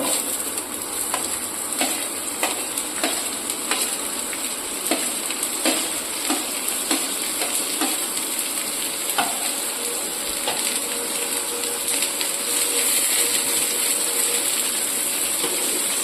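Four large chopped onions fry in a hot pan for a Bengali-style mutton korma, giving a steady, dense sizzle throughout with frequent scraping and clicking from stirring, close and without talk.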